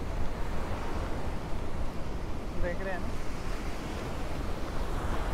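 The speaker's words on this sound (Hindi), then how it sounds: "पूरा का पूरा शोर लहरों का ही आ रहा होगा" Monsoon surf rolls onto an empty beach in Goa, a steady, full roar of breaking waves with wind buffeting the microphone and a brief voice speaking over it.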